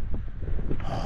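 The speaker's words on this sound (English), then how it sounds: "it's very windy" Strong wind buffets the microphone on a bikepacking ride through the Yorkshire Dales, a low rumbling roar that swells toward the end of a short burst.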